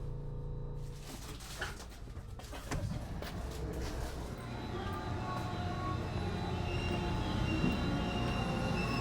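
A train stands at a station in Tohoku while the crew prepares to reverse direction, a low steady engine idle with a brief metallic clank and a squeal early on, under quiet background hum.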